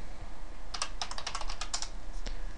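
A quick burst of keystrokes on a computer keyboard, about a dozen crisp close clicks in a fast, uneven run as a search is typed, with one more tap at the end.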